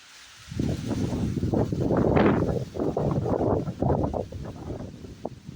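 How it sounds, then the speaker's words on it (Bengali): Strong gusty wind roars and buffets the microphone in rising and falling surges, loud and close, with no voices. "আজকে একটু ঝড় হচ্ছে"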